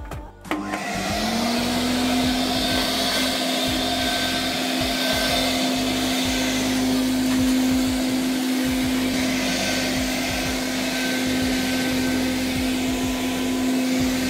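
Homemade leaf blower built from an old vacuum cleaner starts up and runs at a steady, loud whine with a constant motor tone, alone and uninterrupted for the whole stretch.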